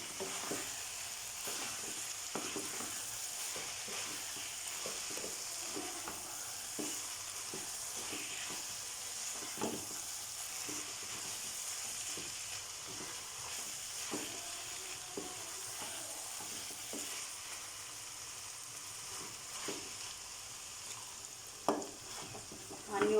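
Masala of coriander powder, cumin powder, black pepper and paprika stirred in a pan for aloo qeema, a steady sizzling fry with scattered scraping clicks of the spoon throughout, fairly close and continuous with no talk.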